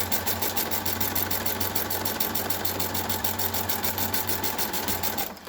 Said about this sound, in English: We're going to stitch right around to the next corner.